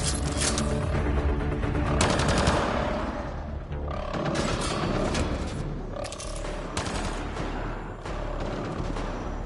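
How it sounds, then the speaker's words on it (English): A gunfight inside a gun battery in the video game Mass Effect: Andromeda, with dense, loud volleys of automatic gunfire and booming impacts that pause briefly and then resume. "It's a gunfight in the gun battery then."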